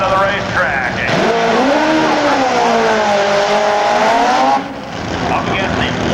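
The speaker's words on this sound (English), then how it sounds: "As the Winnebago Motorhome Top Fuel machine gets ready to go for Chris Hand of Nauvoo, Alabama" A Top Fuel dragster prepares to launch at a drag strip, its engine revving loud and close in a continuous, wavering roar that dips briefly near the end, with a race announcer talking over it.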